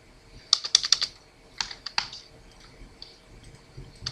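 Brief bursts of typing on a computer keyboard, crisp close key clicks clustered near the start and then a few scattered taps over a faint quiet background.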